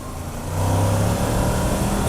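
Honda VFR motorcycle engine running steadily with a low droning tone that swells about halfway through as revs climb toward the VTEC range, loud and close, with no talking.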